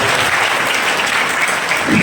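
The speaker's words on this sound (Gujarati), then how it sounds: "તાળીઓ થઈ જાય વ્યક્તિ માટે દોસ્તો." Loud, dense audience applause fills a hall at a Royal Institute event in Ahmedabad, steady throughout with a brief low voice near the end.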